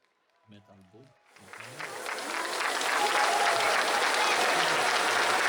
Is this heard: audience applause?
yes